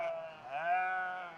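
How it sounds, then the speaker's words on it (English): A single sheep bleats once, a clear wavering call that swells in the middle and fades, close and alone. "I'm laughing at the sheep."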